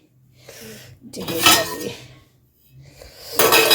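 Metal pot of boiling ginger tea being covered, with clanking lid and utensil clinks in bursts separated by brief quiet, plus faint kitchen handling noise.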